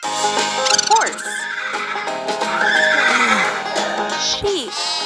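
Cartoon horse whinnying in a children's farm-animal game, a loud, wavering neigh set over bright looping music with a few short chirpy effects.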